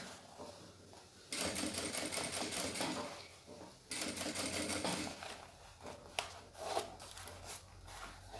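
A sewing machine stitches a zippered pouch with a visor window in fast mechanical bursts. It runs in two long stretches and then in shorter starts and stops, heard up close with no talking.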